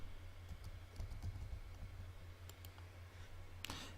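Soft, rapid computer mouse clicks tap in irregular bursts while someone works in Revit 2016, faint over a steady low hum, with one brighter click near the end.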